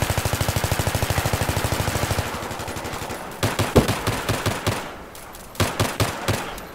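Video game gunfire: a fast stream of shots for about two seconds, then a pause and several spaced bursts of loud cracks, with no voices.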